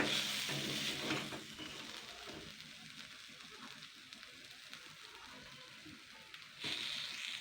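Pointed gourd (parwal) slices frying in ghee without oil over a very low flame, giving a soft, steady sizzle close by with faint stirring, swelling briefly louder near the end; no talking.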